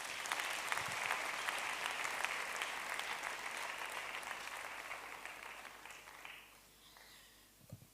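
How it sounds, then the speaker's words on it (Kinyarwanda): A church congregation applauds in steady, dense clapping that holds for several seconds and then thins out toward the end, with no speech. "Twongere dukomere Imana yacu amashyi."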